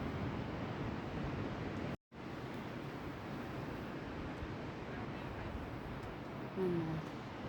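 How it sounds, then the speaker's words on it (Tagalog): Strong ocean surf roars steadily with wind buffeting the microphone, cutting out for an instant early on. "Lakas ng alon."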